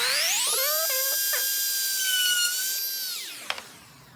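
A thin 1.5 mm bit in a small power drill boring a guide hole for a screw in a phone holder mount: a close, high whining motor that ramps up, holds steady, then winds down.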